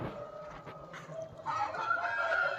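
Chickens on a farm clucking and crowing, with several short calls early and then a longer, louder crow that rings out close by, and no voices.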